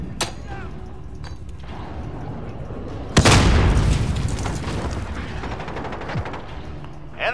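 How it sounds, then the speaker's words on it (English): Cruise missile explosions in the video game Call of Duty: Modern Warfare, with a sudden loud boom and rumbling aftermath among gunshots, while players talk over the action. "Enemy cruise missile!"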